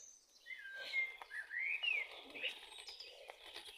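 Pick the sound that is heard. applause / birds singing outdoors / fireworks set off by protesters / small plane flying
birds singing outdoors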